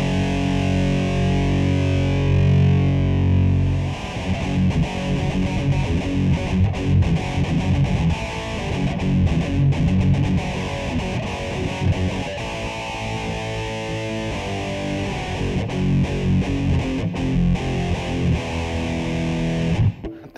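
A Donner Cyclops modeling mini amp set to its 5150 model blasts heavily distorted electric guitar, dense and loud throughout, with a steady hiss underneath and no talking.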